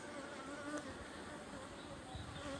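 Honeybees at a hive buzzing ahead of rain, a steady dense hum that holds at an even level throughout, close by and fairly soft.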